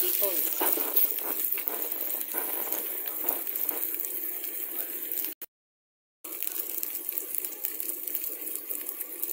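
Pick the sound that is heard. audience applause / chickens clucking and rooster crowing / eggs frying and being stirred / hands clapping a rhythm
eggs frying and being stirred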